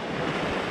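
A river rushes toward a big waterfall in the wilderness, a dense, steady roar of moving water close by, broadband and unbroken for a brief moment.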